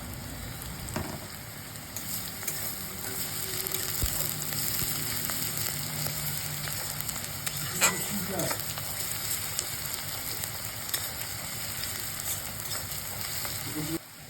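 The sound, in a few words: frying onions, green chilli and garlic paste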